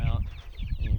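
Chickens in a chicken tractor give a quick burst of clucking and squawks at close range, several short overlapping calls within a second.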